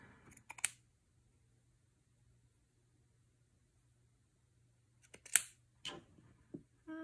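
Scissors snip thread during hand stitching, with a couple of short, crisp clicks near the start and a few more sharp snips toward the end, close and quiet over a low steady hum.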